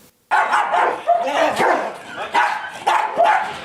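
A dog barks repeatedly in a close, loud series of sharp barks, with voices talking around it, in a festive Ukrainian New Year comedy scene.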